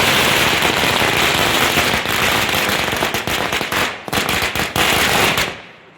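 Firecrackers bursting at a wedding celebration, a loud, dense run of rapid crackling pops that stutters near the end and then fades out.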